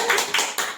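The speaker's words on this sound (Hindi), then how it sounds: "कितनी तालियां बज रही हैं" A few family members clap at an anniversary cake cutting at home, a short close burst of three loud clustered claps in quick succession, with no talk.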